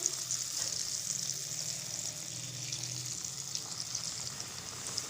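Snack frying in hot ghee and oil, a steady soft crackling sizzle that keeps going evenly from start to end with no voices.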